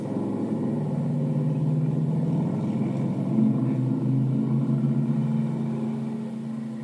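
An early vintage Corvette race car runs on a track, its engine a steady, close, deep rumble that builds slightly in the middle and fades a little toward the end.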